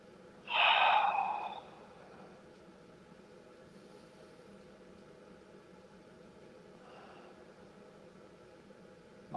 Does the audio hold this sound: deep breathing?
yes